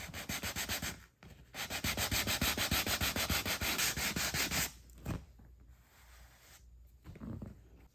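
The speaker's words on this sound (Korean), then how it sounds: "자, 사포질을 다 했고요." Sandpaper rubbed over a worn, tattered leather sofa during restoration: fast, loud, rhythmic back-and-forth scratching strokes for several seconds, then fainter scattered rubs and brief handling sounds, with no voices.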